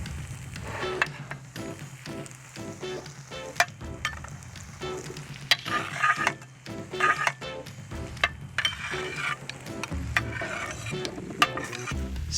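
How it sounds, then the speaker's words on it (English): Grilled vegetables, chickpeas and piquillo peppers are stirred into cooked paella rice, with scraping utensil strokes, clinks against the pan and a background sizzle, close and busy with no talking. "Stir in the vegetables."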